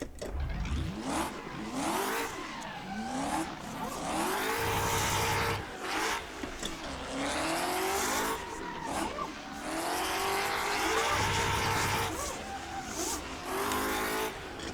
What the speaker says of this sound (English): a nice rear-wheel drive car that's meant for drifting